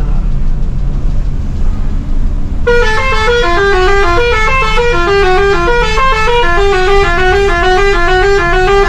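Loud multi-tone vehicle horns honk in a steady, stepping melodic pattern, starting a few seconds in over a constant low rumble of engines.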